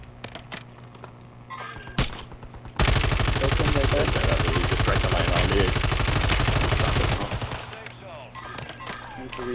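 Rapid automatic gunfire in a video game: a dense, loud burst of repeated shots lasting several seconds, preceded and followed by scattered single shots and game sounds, close and dominant.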